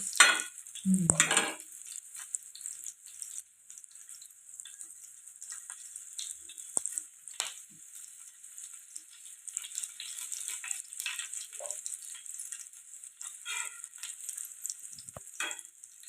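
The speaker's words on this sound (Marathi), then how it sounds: "असे चांगले पलटवून घ्यायचे" Stuffed green chillies frying in a pan, a thin constant sizzle with intermittent scrapes and clicks as they are turned over, close and fairly quiet.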